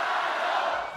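Crowd noise at a FIBA 3x3 U23 World Cup basketball quarter-final, China versus Hungary, a steady loud roar of many voices for about a second with no break.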